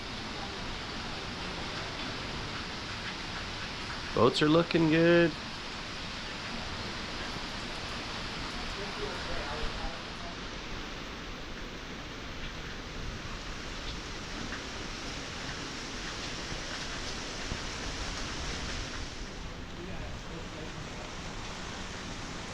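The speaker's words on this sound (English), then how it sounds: "Wow, that is some rain." Heavy rain from Hurricane Beryl in Grenada roars in a dense, constant wash of noise throughout, with someone briefly speaking early on over the downpour.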